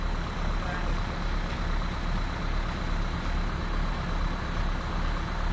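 Two Trans Koetaradja city buses in Banda Aceh run their engines, a steady loud low rumble filling the whole stretch, with a person talking over it.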